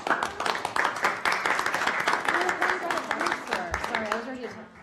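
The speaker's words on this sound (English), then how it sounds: "Can we give a clap?" Applause at a school board meeting, a small room's scattered clapping running steadily for several seconds, with voices talking underneath.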